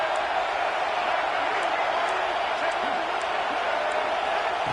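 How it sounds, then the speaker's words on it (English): A stadium crowd in the college football video game EA Sports College Football 26 roars steadily on third down, a dense, loud wash of cheering with faint commentary underneath. "Third down, and the crowd really getting into it."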